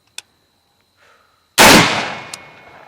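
A single loud rifle gunshot at an outdoor shooting course demonstration, a sharp crack with a ringing decay, preceded by faint small clicks.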